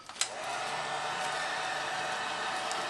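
Heat gun blowing hot air to shrink plastic shrink wrap around a box, a steady close whooshing roar after a brief click at the start.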